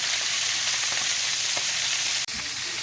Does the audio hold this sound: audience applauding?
no